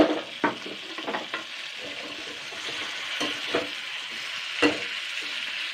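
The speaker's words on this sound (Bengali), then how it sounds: "এটা দিয়ে আমি জাস্ট 1 মিনিট মতো নাড়াচাড়া করে নেবো, জাস্ট সজনে ডাঁটাগুলো দিয়ে" Drumsticks being stir-fried with spice pastes in a pan, a moderate sizzle under repeated scraping and clacking strokes of a spatula, irregular and close.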